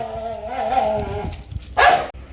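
A puppy gives a short whining yelp, then a brief louder bark close by.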